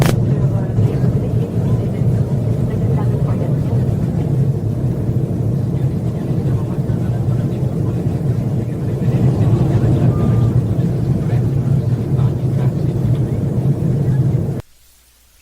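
Steady low drone of an airliner cabin in flight, a constant engine hum filling the space, with a faint Italian announcement barely rising above it before the sound cuts off near the end.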